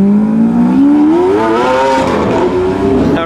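A Lamborghini Aventador SV Roadster with a V12 engine drives past nearby, its loud engine note climbing steadily in pitch as it accelerates, then easing off near the end.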